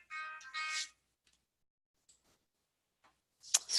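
Mobile phone ringtone: a short melodic electronic ring plays twice near the start and then stops, followed by near silence and faint tapping sounds.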